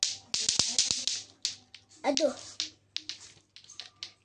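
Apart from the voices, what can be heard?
helicopter clapping pattern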